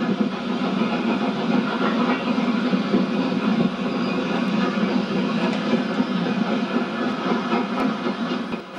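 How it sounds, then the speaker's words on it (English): Steady rumble of a Hall class steam locomotive hauling a train from Reading West to Oxford, a continuous low chugging drone with faint rhythmic rail clatter throughout, no voices. "We now travel from Reading West to Oxford, behind a Hall class locomotive."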